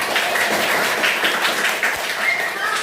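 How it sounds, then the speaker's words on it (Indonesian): Primary school students in a fifth-grade classroom clap together in a brisk, even patter of many hands, fairly close and steady, without talking over it. "tepuk tangan dulu"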